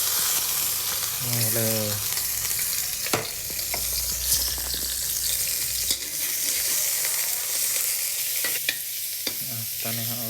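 Garlic and eggplant fry in hot oil in a pan, giving a steady sizzle throughout with occasional stirring clatter and scrapes, while a person talks briefly over the cooking.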